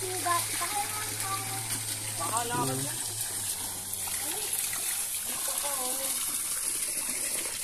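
Water gushes and splashes steadily, like a tap running into a full basin, with people talking over it.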